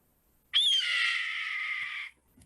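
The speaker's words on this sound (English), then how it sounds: "And that is the more typical sounding eagle call that you'll hear all over the place. It's actually not an eagle, it's a red-tailed hawk." A single red-tailed hawk gives its classic long, hoarse descending scream, loud and close, starting sharply and fading after about a second and a half against near silence.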